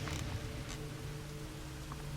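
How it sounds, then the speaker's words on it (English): Steady rain falls continuously in the video game Jenny LeClue, a dense hiss of drops with a low rumbling undertone and no voices. "It is raining now."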